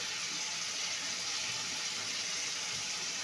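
Fish curry with potato and cauliflower pours into a pot as a steady, even liquid rush that lasts throughout, fairly soft and close, with no talking.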